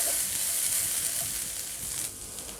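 Onions and ginger garlic paste sautéing in a pan for a bakery-style chicken roll filling: a dense, continuous hiss of frying, loud and close with no talk.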